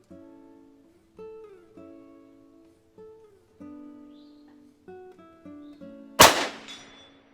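A Remington XP-100 pistol fires a single sharp, loud shot near the end, preceded by a series of soft sustained tonal notes.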